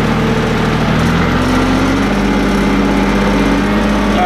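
A tractor engine runs loud and close with its rear PTO engaged while powering a TracFOG fogger setup, a steady drone whose pitch rises slightly as the revs are slowly brought up.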